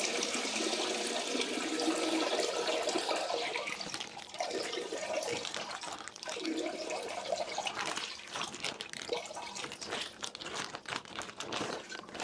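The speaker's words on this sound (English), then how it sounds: "I'm going to agitate and then dump the water out." Water sloshes and pours out of a Scrubba wash bag used for handwashing cloth diapers, gushing continuously, splashing and gurgling for several seconds before tapering into drips and rustling.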